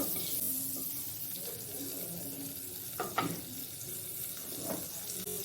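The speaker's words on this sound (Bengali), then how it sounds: "কড়াইটা গরম হয়ে গেছে, গ্যাসের ফ্লেমটা একটু কমিয়ে 1 টুকরো বাটার দিয়ে দিলাম।" Butter melting and sizzling steadily in a hot kadai over a lowered gas flame, a soft continuous fry with a couple of brief clinks of a utensil against the pan.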